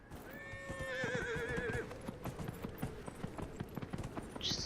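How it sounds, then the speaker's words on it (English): A horse in the fantasy game Dragon Age Inquisition neighs with a loud wavering whinny, then its hooves clip-clop in a quick galloping rhythm that carries on after the call fades. "I think maybe now would be a good time for a horse."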